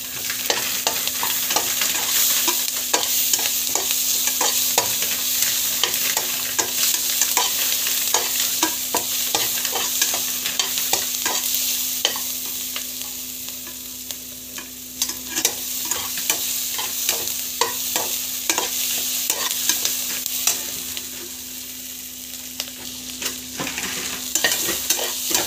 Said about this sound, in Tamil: பிரியாணி இலை, நல்லா வந்து வதக்கிக்கோங்க